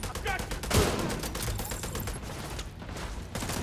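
Rapid automatic gunfire in The Division 2 crackles as a dense stream of sharp, evenly spaced shots. It carries on through the whole stretch, with faint talk underneath.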